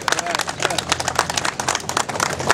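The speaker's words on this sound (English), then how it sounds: "let's give them a strong round of applause." A crowd at an outdoor firefighters' rally against Bronx firehouse closings claps and cheers, with uneven clapping mixed with voices and shouts close by.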